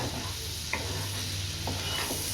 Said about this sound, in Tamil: லோ ஃப்ளேம்லேயே வச்சு நல்லா கலந்துக்கிட்டுக்கோங்க